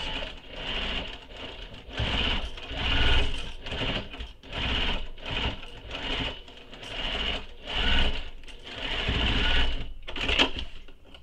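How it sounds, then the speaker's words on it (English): A sewing machine runs in repeated bursts of stitching as basting stitches are sewn over on a backpack lining and exterior, with steady motor whir and needle clatter, close and fairly loud, no talking. "basting stitches that I can see, so I'm just stitching right on top of that"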